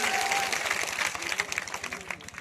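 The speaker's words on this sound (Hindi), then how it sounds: "जोरदार ताली बजा के स्वागत करिए" Crowd applause at an outdoor election rally in Kaimur, Bihar, a dense continuous clatter of clapping with rhythmic thumps, fairly loud and sustained throughout.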